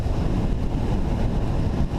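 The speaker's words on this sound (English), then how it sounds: "it's very windy" Strong wind buffets the microphone outdoors beside a Honda CRF250R dirt bike, a steady low roaring rush with gusty fluctuations lasting throughout, close and loud with no talking.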